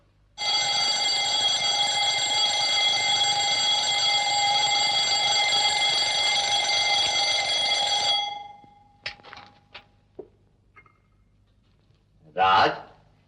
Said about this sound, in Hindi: उठो बेटा, कब से अलार्म चिल्ला रहा है?